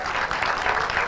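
Applause from an audience at a Law Society event, a dense, steady wash of many hands clapping at close range, continuous and fairly loud through the brief moment.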